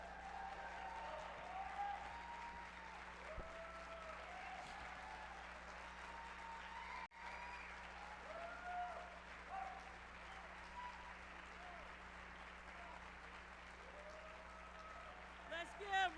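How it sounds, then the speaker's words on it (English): An audience at a political forum in Detroit applauds Reverend Wendell Anthony, a faint, distant and sustained wash of clapping that continues steadily while a voice speaks over it. "Let's give Reverend Wendell Anthony another great round of applause."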